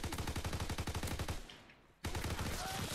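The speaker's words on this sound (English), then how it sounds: "He's using the freaking Thompson gun, of course." Thompson submachine gun firing in Call of Duty: World at War, rapid loud bursts of automatic fire that break off briefly into a quiet gap before the shooting resumes at full intensity.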